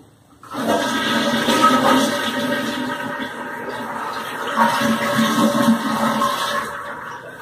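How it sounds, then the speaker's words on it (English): A toilet flush rushes loudly for several seconds, with swirling water and a steady gurgling refill that trails off toward the end. "Oh, courtesy flush."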